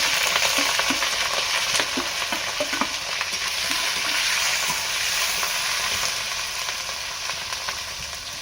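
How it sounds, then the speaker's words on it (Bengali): Ginger paste and chopped tomato sauté with whole cumin in a hot pan, giving a steady, loud, close sizzle with occasional spatula scrapes and stirring taps throughout. "ভালো করে মশলাটা আমি কষিয়ে নেব।"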